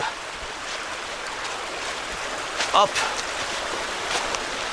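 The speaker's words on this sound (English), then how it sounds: "We got a beautiful little mini waterfall down there" A small waterfall on a creek in a wooded gap in Bedford County, Pennsylvania, gives off a steady, broad rushing hiss from below. A brief louder burst of other noise cuts in near the middle.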